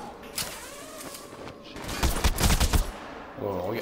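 Enemy gunfire in Batman: Arkham Origins, a tight cluster of rapid machine-gun-like shots around the middle, after a few scattered cracks and metallic creaks, loud and close.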